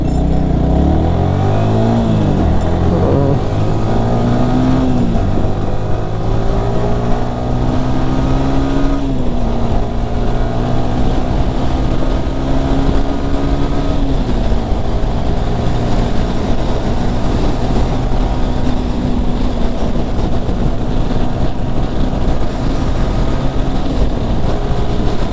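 Yamaha R15 V3 motorcycle engine revving hard as it accelerates through the gears, the pitch climbing and dropping with each shift, loud, close and steady for the whole stretch.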